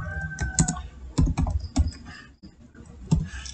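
A web address being typed on a computer keyboard, a quick run of close, crisp key clicks in uneven bursts with a brief pause near the middle, and no talking.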